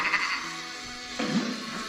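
A sheep bleats in the puzzle game Escape Plan, one short wavering call over a hushed atmospheric backdrop, ending in a brief low thump.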